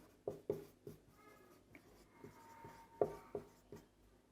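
Notes are written by hand during a home science online class: quiet scratchy pen strokes arrive in short separate bursts with small pauses between them, close to the microphone and alone.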